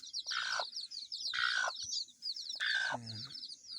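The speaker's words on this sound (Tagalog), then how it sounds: "Yung mga manok ko." Hens and small chicks on a Filipino farm: bright, repeated chirps nearby, broken by a lower clucking call, with no talk.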